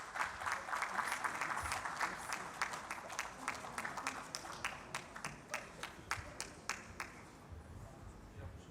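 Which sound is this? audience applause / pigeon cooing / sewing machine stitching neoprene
audience applause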